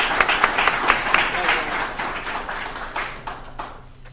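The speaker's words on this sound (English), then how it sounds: "give a huge round of applause" A conference audience claps, dense and fairly close, a sustained round of applause that slowly thins and fades over about four seconds.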